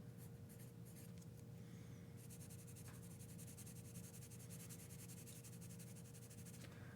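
Pencil graphite rubs over paper up close in short, irregular scratchy strokes, then settles into one longer continuous scribble, all quiet above a low steady hum.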